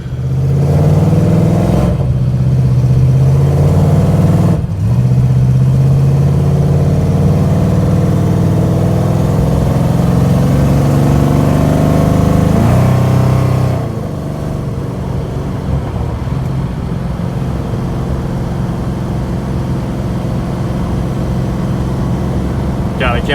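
A BMW E46 M3 engine pulls hard in fourth gear inside the car, a loud sustained drone whose pitch climbs steadily before a sudden drop as the throttle lifts, with people talking over it.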